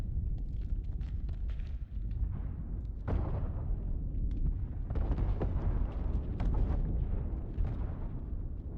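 Explosion in the game House of Ashes: a deep, rumbling blast with crackling debris and a fresh boom midway, heavy low-end roar sustained at moderate level without any voices.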